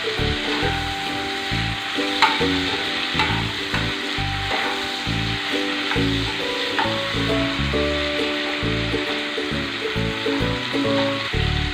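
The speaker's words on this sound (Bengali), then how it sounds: "একটুখানি তেলে দেওয়ার পরে একটু নাড়াচাড়া করে নেবেন" Prawns frying in a little oil while being stirred, a steady close sizzle broken by repeated scraping and rubbing of a utensil through the pan, with no talking.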